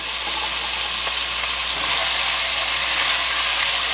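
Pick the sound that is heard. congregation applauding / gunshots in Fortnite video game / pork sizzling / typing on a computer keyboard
pork sizzling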